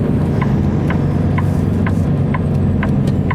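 A vehicle drives in around a corner with a steady, loud engine drone and rumble, a faint regular ticking running over it.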